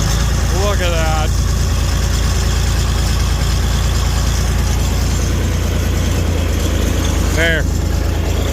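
A truck engine idles after a cold start in wet, nasty weather, a loud steady low rumble running unbroken throughout, with a couple of brief voice-like calls rising above it near the start and end.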